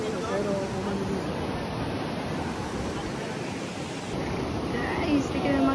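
A strong river current on a mountain hike in the Philippines, heard as a continuous rushing water noise with some wind buffeting and faint voices in the background.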